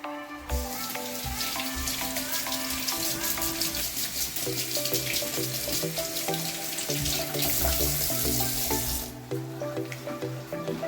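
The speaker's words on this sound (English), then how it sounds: "Rinse the tomato off. Wash your tomato." Plain sink tap water runs steadily onto a whole tomato being rinsed in a home kitchen, a continuous hissing splash that stays loud and close throughout, with clattering and a shift in the flow near the end.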